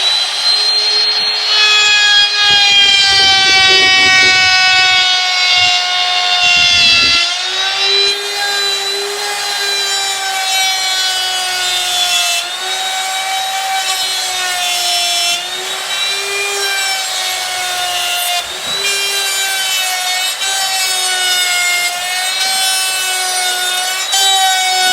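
A router cutting dovetail joints in wood, guided around a dovetail jig's comb, whines loudly with a steady high tone that dips slightly each time the bit moves in, around and out of a finger, running continuously without talk.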